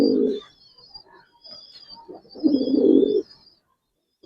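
Giribaz pigeons, a toto-type pair, coo in deep, rolling bursts, one at the start and a longer one near the middle, while fainter high chirps from other birds carry on behind them.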